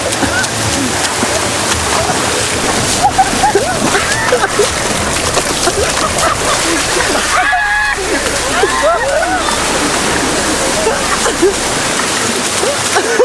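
A person plunges into water at a campsite, the splash and sloshing standing out near the middle amid continuous outdoor water noise, with people talking loudly throughout.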